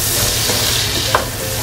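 Onion and garlic frying in a pan, a steady broadband sizzle with faint stirring scrapes and one brief sharp tick, close and fairly loud throughout.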